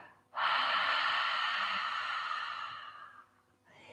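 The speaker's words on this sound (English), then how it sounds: "Big breath in. Feel that balloon and breathe out." A deep, steady breath out during a children's yoga breathing exercise: one long, close, breathy exhale lasting about three seconds that slowly fades, followed by a short quieter inhale.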